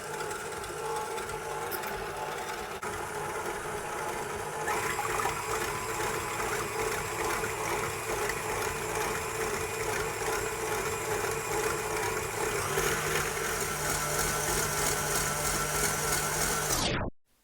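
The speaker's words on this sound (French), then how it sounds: "Je vais maintenant monter mes blancs en neige à l'aide du fouet et du robot batteur" An electric mixer whisks egg whites for chocolate mousse with a steady, fairly quiet motor whine that steps up in speed twice, then cuts off abruptly at the end.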